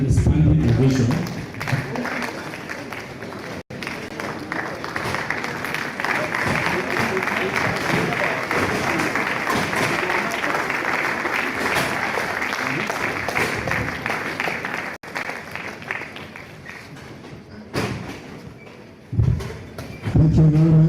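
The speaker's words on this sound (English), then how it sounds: "Please, can we give him a standing ovation?" Lecture hall audience rises in a standing ovation for a speaker at an annual lecture series, sustained dense clapping that swells and holds for many seconds, with voices heard at the start and again as the applause fades.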